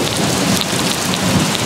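Steady heavy rain pours down close by, with a low rumble of thunder running underneath throughout; no voices.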